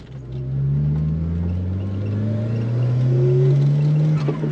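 A turbocharged, twin-charged Nissan engine revs up loudly and close, its exhaust note rising in pitch as it accelerates with a deep rumble underneath.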